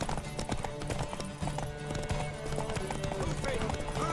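Galloping hooves pound in a fast, steady rhythm during a horse race in The Witcher 3, loud and close, with voices speaking over the running horse.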